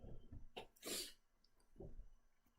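A person sneezes once, a quick breathy intake followed by a sharp, hissing burst close to the microphone, with quieter sniffs and breaths around it in an otherwise quiet room.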